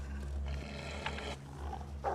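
Wolves in the snowy survival game The Long Dark, giving a low, faint growling rumble with a few short snarling bursts, heard quietly and alone.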